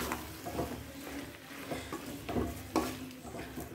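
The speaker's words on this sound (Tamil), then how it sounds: "இப்போ எடுத்து வச்சிருக்கிற இஞ்சி பூண்டு விழுத போட்டுக்கறலாம். நல்லா கிளறி விட்டுக்கறலாம்." Ginger garlic paste stirred in a frying pan for chicken manchurian, with a spatula scraping and tapping against the pan in irregular strokes over a soft, steady sizzle, fairly close.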